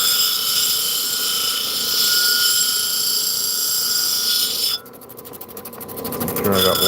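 A lapidary grinding wheel running wet against a turquoise stone as its edges are rounded off, giving a steady, loud, high-pitched whine throughout that pauses briefly near the end, then resumes.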